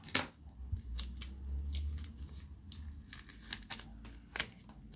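Scissors snipping through adhesive tape on a mail package during an unboxing, several sharp close cuts at an irregular pace with light crinkling of tape and paper in between, no talk.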